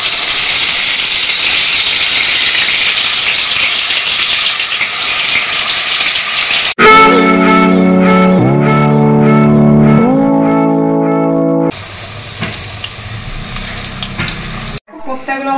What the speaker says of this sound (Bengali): আমি এক এক করে কোপ্তাগুলো সব তেলে ছেড়ে দেবো।